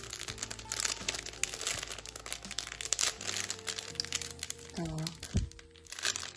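Crinkly plastic parcel packaging from an arts-and-crafts supply order rustles and crackles in bursts as it is torn open, close by, with someone talking over it.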